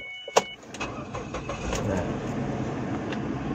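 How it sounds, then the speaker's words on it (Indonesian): A Ford Escape XLT 2.3 SUV engine is cranked and catches with a sharp click and quick surge, then settles into a steady, low, close idle. "Kita nyalain mesin."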